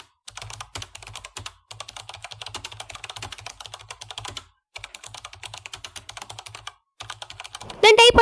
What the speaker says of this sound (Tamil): எந்த மாதிரி எஃபெக்ட் உங்களுக்கு வேணுமோ அதை நீங்கள் டைப் பண்ணிக்கோங்க.